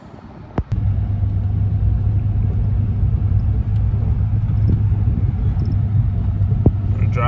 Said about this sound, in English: We're driving on the snow mode.